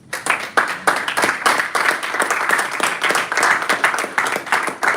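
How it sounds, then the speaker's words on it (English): A round of applause at a Toastmasters club meeting in a Lagos hotel on Victoria Island, with many hands clapping in a lively, fairly loud burst that swells and holds steady, with no talking over it. "Please, can we give TM Jeremiah a round of applause?"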